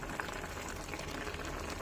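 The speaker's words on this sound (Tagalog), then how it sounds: "Ayan na po, kumukulo na siya" Paksiw with coconut vinegar bubbles in a pot at a steady rolling boil, a constant close hiss and burble with no voices over it.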